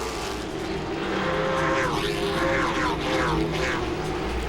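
Late model stock cars race door to door at Langley Speedway, engines roaring steadily and close with rising and falling passes through the clip, no talk over the continuous racing noise.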